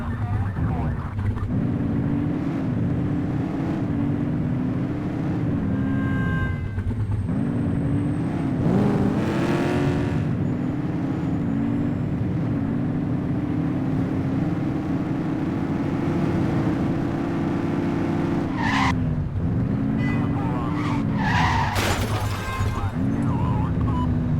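Speeding cars in The Precinct roar past with a sustained engine drone that shifts pitch as they accelerate, broken by sharp skids and crashing impacts, loud and continuous throughout.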